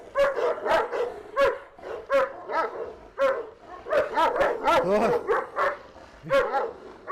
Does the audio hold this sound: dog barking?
yes